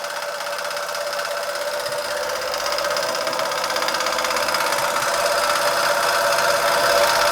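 A small German vertical boiler model steam engine with a modified Mammoth flywheel runs steadily, giving a continuous rapid mechanical clatter with a hissing edge that grows slightly louder over the few seconds.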